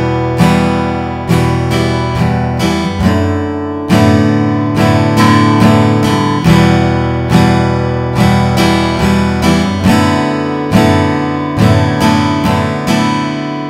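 Acoustic guitar strumming chords with down and up strokes at a quicker tempo, a continuous rhythmic pattern of bright, full strums that is loud and close, with no voice over it.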